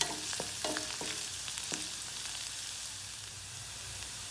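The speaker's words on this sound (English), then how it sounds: "Now the garlic has started to brown and I am adding the onions." Garlic and onions sauté in a pan with a soft, steady sizzle and a few utensil clicks early on, fairly quiet and close, with no voices.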